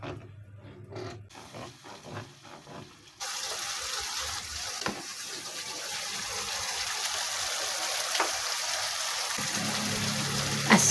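Water is poured into a pot where beef curry spice paste is frying, heard as a quiet trickle at first and then a louder, steady, continuous splashing pour that runs to the end.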